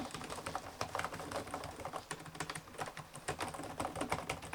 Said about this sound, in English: the Legion TrueStrike keyboard, which just feels fantastic for both typing and gaming